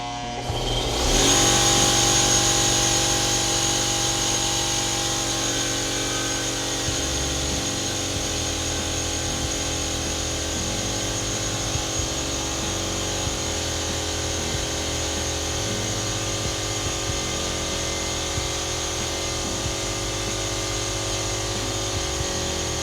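A 127-volt AC electric motor with a factory defect runs on 150 volts through a high-current load-control circuit, spinning up abruptly and then whining steadily and loudly for over twenty seconds with a shifting, buzzy hum.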